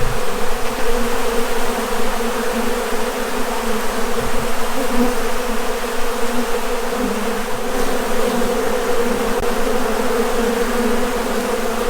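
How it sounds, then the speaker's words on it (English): Honeybees swarm over leftover honey mess after extraction, a dense, loud, continuous buzzing drone close by with no voices. "So the bees are working very hard getting that stuff cleaned up"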